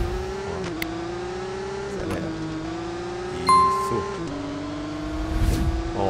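A car engine in the Car Parking Multiplayer video game roars steadily, its droning pitch rising and falling with the revs across several gear-like shifts.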